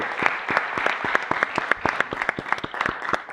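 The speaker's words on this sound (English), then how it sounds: "I'd like to give a round of applause to Jean" A small group at a museum board meeting claps for Jean, a short burst of close, uneven handclaps with no voices.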